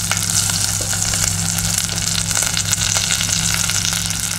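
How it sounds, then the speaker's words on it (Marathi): Curry leaves and a red chilli tempered in hot ghee for a raw mango kadhi, giving a steady, close, loud sizzle and crackle of frying with no voices. "या कढीला साजूक तुपाची फोडणी खूप छान लागते।"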